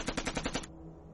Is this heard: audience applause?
no